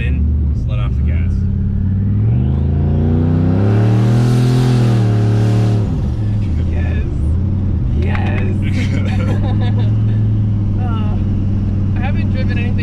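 A turbocharged 600HP Yukon XL revs, a loud continuous engine drone rising in pitch then dropping back to a steady rumble, heard up close from inside with voices over it.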